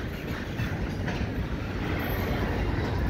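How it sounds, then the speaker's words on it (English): A train rushes past nearby, a dense steady roar of wheels on track with faint rhythmic clatter. "You can come here, watch the trains."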